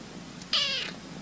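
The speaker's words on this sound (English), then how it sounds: "She's just a little fuzzy cat, and she's so cute." A small fuzzy cat gives one clear, fairly loud meow, rising then falling, over steady room noise with no talking.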